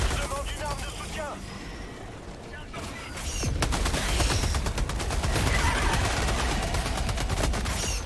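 SMG fire in the co-op shooter Helldivers 2, rapid bursts of automatic gunshots crackling over game music and effects, with voices talking over the action.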